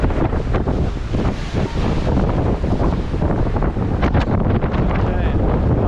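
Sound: ship engines cruising across the Baltic Sea

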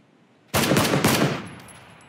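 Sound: gunshots in the video game PlayerUnknown's Battlegrounds

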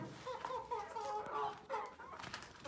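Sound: Brahma chickens eating

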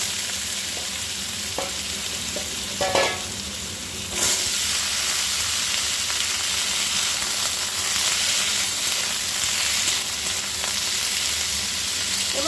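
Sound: potatoes frying in a pan for cauliflower curry

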